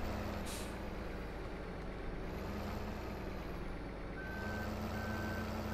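A truck in Farming Simulator 15 pulls and reverses a trailer over a loud, constant engine drone, with a sharp air-brake hiss near the start and steady reversing beeps toward the end.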